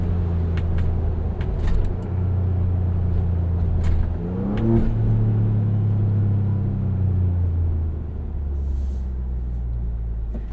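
A Ford Bronco with a 2.7L V6 and an MRT axle-back exhaust drives with a steady deep rumble, then revs and accelerates with rising engine tones around the middle before settling back into a low cruise. No one speaks.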